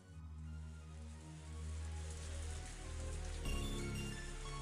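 Steady, soft rainfall in the video game Higurashi When They Cry, a constant hiss of drops on surfaces with a low droning undertone that swells slightly partway through.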